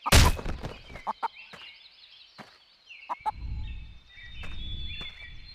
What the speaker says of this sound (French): Je suis pas fou, j'entends une poule.